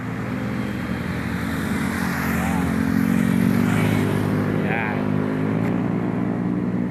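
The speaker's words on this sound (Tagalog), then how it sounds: "Ito ang aking motor, 25 years service." An old motorcycle, in service for 25 years, runs with a steady loud engine drone, heard up close, with a voice talking over it and wind rushing in the background.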